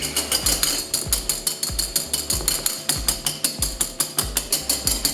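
A fast rhythmic mechanical rattling repeats steadily and close, a power drill spinning a whisk attachment against a bowl, whipping chickpea water.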